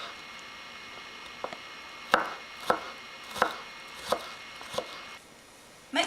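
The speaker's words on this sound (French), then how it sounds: "Maintenant, on coupe l'oignon en petits cubes." Knife chopping an onion into small cubes on a board, a handful of separate crisp chops spaced about half a second apart over quiet background, close with no talk.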